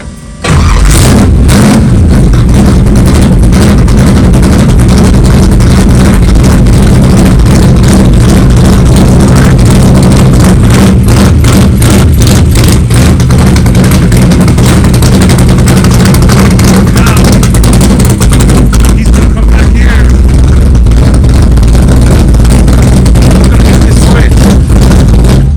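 A 1964 Chevrolet race car with nitrous system, its engine starting and then running loud and close with a rough, heavy idle that continues throughout, with people talking over it.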